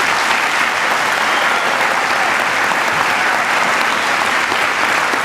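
A large audience applauds the Spring 2016 Masters graduating class at an FSU College of Business commencement, dense loud clapping sustained evenly throughout.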